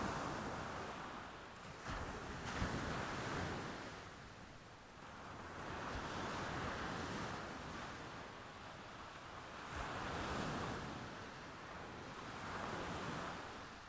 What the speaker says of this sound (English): The wind blew over them, and the surf sang, as though the sea itself kept the dirge of their repentance.